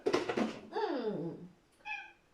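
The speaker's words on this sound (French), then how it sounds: "Ah oui, non, mais tu peux miauler, hein." A house cat meows several times in a row, close and clear, with a long drawn-out meow in the middle and a shorter, higher call at the end, in a quiet room.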